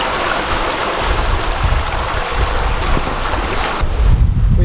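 Wind buffets the microphone while waves wash steadily around a sailboat heeling on a rough, bumpy crossing of the Caribbean Sea with a double-reefed main and jib, a continuous close roar with no talk.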